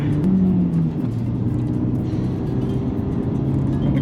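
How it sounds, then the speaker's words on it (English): Engine of a cheap car on a track, droning steadily under acceleration with a faint wavering, fluttering pitch consistent with valve bounce, close and loud, then settling into a lower steady tone without talk. "A bit of valve bounce."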